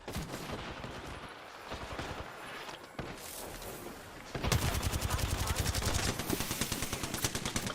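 Gunfire fills a battle royale video game match, beginning as scattered shots and then turning into dense, rapid automatic bursts that sound loud and close.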